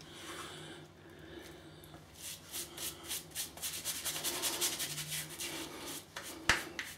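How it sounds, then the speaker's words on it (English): A WCS shaving brush swirls through Abbate y la Mantia soap in a tin, making close, soft, rhythmic rubbing strokes that speed up and grow denser, ending with a sharper knock. "I'll gather the soap that's in this tin."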